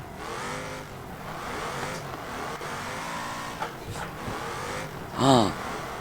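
A BMW 3 Series in the BeamNG driving game revs hard as it accelerates, its engine tone climbing in repeated sweeps, with a short sharper burst of noise near the end.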